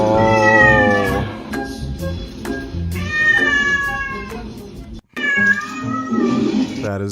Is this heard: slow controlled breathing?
no